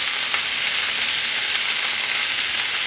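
Cabbage stir-fries in a small frying pan with a loud, steady sizzle and hiss, constant and close, with faint scraping from stirring and no voices.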